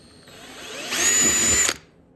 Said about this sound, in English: Small drill bit, 1/8 inch. Go ahead and get the center of each hole.